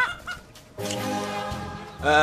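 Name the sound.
chickens clucking on a bus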